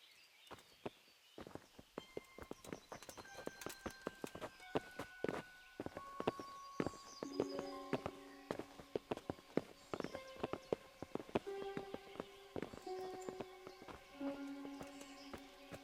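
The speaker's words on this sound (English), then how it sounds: "Bring the horses." Horses walk with a steady clip-clop of hooves in the video game Kingdom Come: Deliverance, under a layered tonal music bed that swells in the second half.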